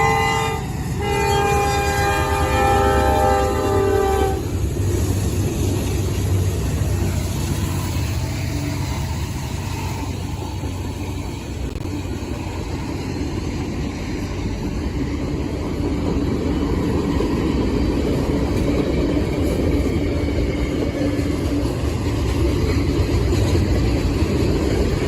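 Norfolk Southern NS310 freight train rolling past with an Operation Lifesaver GP38-2 trailing, opening with a loud multi-tone horn blast, then a steady close roar of rail cars and wheel noise throughout.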